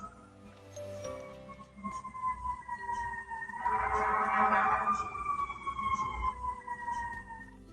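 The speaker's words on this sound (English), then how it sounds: "You probably hear the sirens." Wailing sirens rise and fall in the distance in New York City, swelling louder midway over a low city rumble, with no talking.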